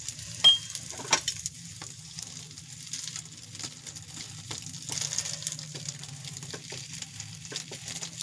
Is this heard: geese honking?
no